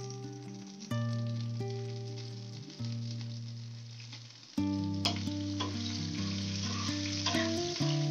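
Steady frying sizzle in a hot pan of mustard oil and whole garam masala, with a louder burst partway through as chopped tomato drops in; background tones hum throughout.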